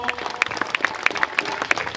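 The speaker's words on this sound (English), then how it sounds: "A round of applause once more." Applause at a gala dinner and awards ceremony, a room of guests clapping with sharp individual claps standing out in a quick uneven rhythm, fairly close.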